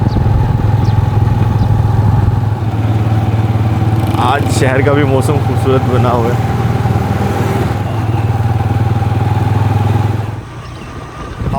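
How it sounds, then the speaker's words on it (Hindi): A motorcycle rides along a rural village track among crop fields in Punjab in light rain, its engine droning loud and steady close by while someone talks over it, the noise dropping near the end. "अभी हम मोटरसाइकिल पे"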